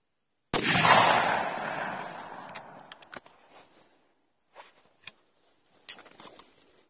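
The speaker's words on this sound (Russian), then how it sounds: "Так, и в картонку пробуем этим патроном." A shotgun fires a cartridge loaded with peas instead of shot at a cardboard target: one sharp, loud blast that decays over a couple of seconds, followed by faint clicks and handling sounds.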